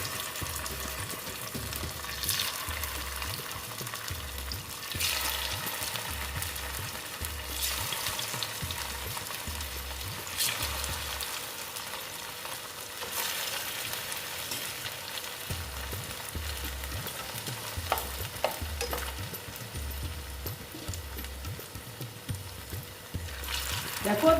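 Poha snacks sizzle steadily in hot oil in a home kitchen, a constant close frying hiss with occasional stirring scrapes and bubbling bursts, fairly soft overall with no talking.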